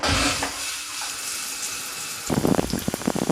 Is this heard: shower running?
yes